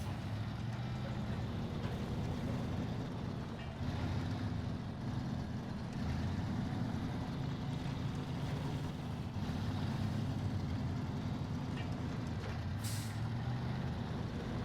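Upgraded in-game truck engine in SnowRunner cruising on tarmac, a steady low droning rumble held at constant level throughout, with a brief hiss near the end and no talk.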